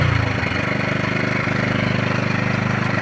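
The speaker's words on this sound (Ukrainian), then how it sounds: "Все, генератор запустився. Зараз він працює в економ режимі." A generator starts and settles into its economy running mode, a loud close engine drone with a rapid steady pulsing throb and a brief change in tone as it catches, then running evenly.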